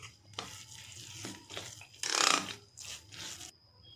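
Semolina batter with curd and water being stirred by hand in a bowl, soft wet scraping and squelching strokes with a louder sloshing burst midway, close and quiet.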